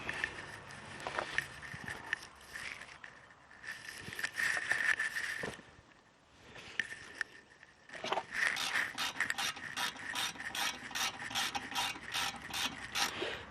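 Ratchet wrench tightening the brake caliper screws on a BMW E36 front brake, heard as bursts of rapid rasping clicks with a pause in the middle, then a long steady run of regular clicks, close and fairly quiet.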